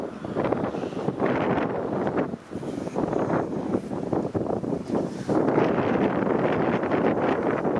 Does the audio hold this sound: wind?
yes